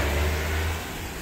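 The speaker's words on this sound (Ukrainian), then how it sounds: "Всі машини, все чути." Road traffic on a nearby road beside a walking path and an artificial pond, a steady low engine rumble of passing cars filling the short stretch at moderate volume, with no talk.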